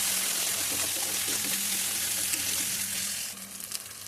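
Onion, garlic paste and ginger paste fry in hot oil, giving a steady broadband sizzle with faint stirring scrapes throughout that quietens toward the end.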